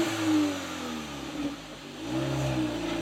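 Facelifted VW Polo GTI engine revving, rising and falling in pitch through a couple of throttle blips, close and fairly loud, with no talk over it.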